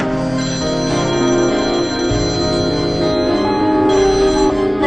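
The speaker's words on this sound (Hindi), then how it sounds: "एक बार और फोन ट्राई करूँ साहिल को बस" A loud, continuous electronic ringtone plays on without pause, bright and tonal, filling the whole stretch.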